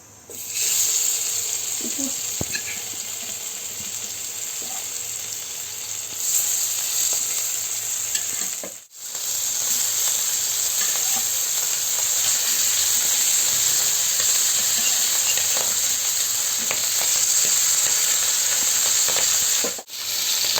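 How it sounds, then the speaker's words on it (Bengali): Hilsa fish pieces deep frying in oil, a loud steady hiss and sizzle filling the whole stretch, broken by two brief dips, with no clear talk. "এখন আমি এটি ডুবো তেলে ভেজে নিব।"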